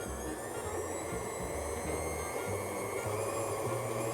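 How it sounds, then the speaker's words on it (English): An electric mixer creams butter and sugar together with a steady, moderately loud motor whir and a continuous droning hum that barely varies across the stretch. "I'm going to start whipping it or creaming these 2 ingredients together"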